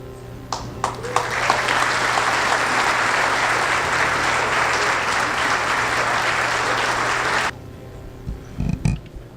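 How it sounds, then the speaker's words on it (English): A school district audience in San Antonio gives a long round of loud, dense applause that stops abruptly near the end, followed by a few scattered claps and faint room noise. "Let's give them one more round of applause."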